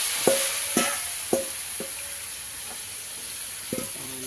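Squid being stir-fried in a pan for Thai basil squid, a soft steady sizzle with several sharp tonal clinks of a utensil against the pan, close and without talk.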